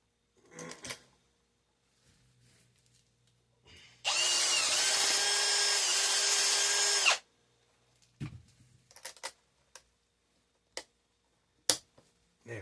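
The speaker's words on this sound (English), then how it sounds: "So I drilled it just a little bit off." A power drill whines steadily for about three seconds while widening a hole in a homemade bus bar for a LiFePO4 solar battery bank. Scattered close handling clicks and taps come before and after the drilling.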